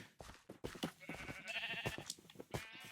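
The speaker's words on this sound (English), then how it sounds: "Let's get some more sheeps in here." Sheep bleating in the Minecraft video game, several short bleats overlapping in a busy, fairly loud burst with no talking.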